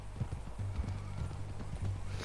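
Horse hooves clip-clop at a steady walking pace in the Red Dead Redemption 2 video game, close and fairly loud over a busy game background.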